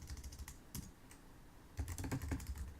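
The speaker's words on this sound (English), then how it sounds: "Just type exactly as I do here." Keys clatter on a computer keyboard in two quick bursts of typing separated by a brief pause, close and clear with no talking.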